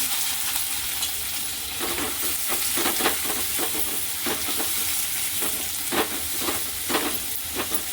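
A large onion and crushed garlic cloves frying in a pan over low heat give a continuous close sizzle, with repeated scraping stir strokes at an irregular rhythm.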